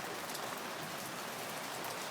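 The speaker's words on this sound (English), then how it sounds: "This is our second really nice rain within about a month's time in Lancaster," Steady, dense rain falls in Lancaster, California, a continuous even hiss of drops on surfaces with no pauses and no voices.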